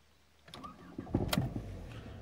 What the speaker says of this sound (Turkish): Şu anda çalıştıracağım aracı.